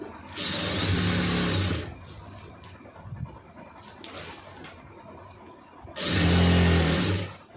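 A sewing machine stitches a churidar seam in two loud, steady runs, one at the start and one near the end, with a quieter stretch of light handling noise between them.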